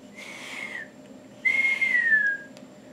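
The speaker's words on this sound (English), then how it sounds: "Suddenly, out came a real whistle." Two clear whistled notes, the first softer and gliding down, the second louder and longer, sliding gently downward before stopping.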